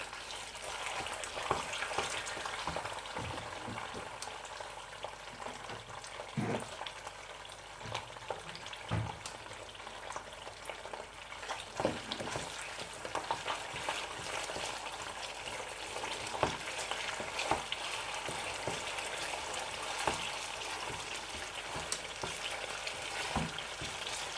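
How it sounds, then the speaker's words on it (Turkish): Tomato paste sizzles and fries steadily in a pan for kısır, with occasional stirring scrapes breaking through the continuous crackle; no voices. "Salçamızı biraz kavuruyoruz"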